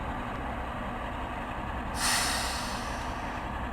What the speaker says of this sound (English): release our brakes